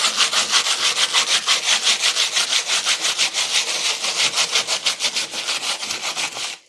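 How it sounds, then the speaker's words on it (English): Rough sandpaper rubbed back and forth over a model railway road surface in steady, fast, rhythmic strokes, loud and close, with no talking. "So using some rough sandpaper to start off with,"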